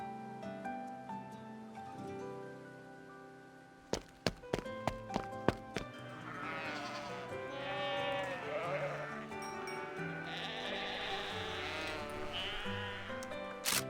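Sheep bleat in a video game over a steady musical backdrop, with a short run of sharp clicks partway through; the bleats are clear and fairly close.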